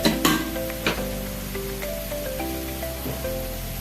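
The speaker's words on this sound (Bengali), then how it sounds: "নাড়াচাড়া করি পেঁয়াজটা হালকা লাল হয়েছে" Onions sizzle and fry in a pan for aloo potol ghonto, a steady soft crackle with a few louder scraping stirs near the start, close by and without talk.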